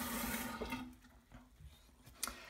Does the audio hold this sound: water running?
yes